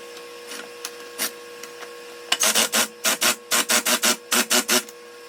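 A few scattered scrapes, then a rapid series of short, evenly spaced grinding bursts as self-tapping screws are driven by hand into the plastic air-conditioning panels of a 1969 Pontiac GTO.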